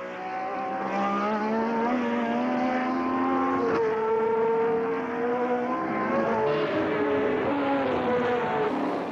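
McLaren M23 Formula One race car from 1972–73 era racing, its engine holding a steady loud, rising and falling tone throughout with no talk.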